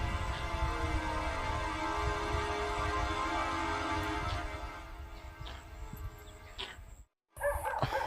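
A dog barks somewhere in the forest near a hill fort by Lonavala, faint and distant, over a steady background hum that fades slightly before a brief drop to near silence.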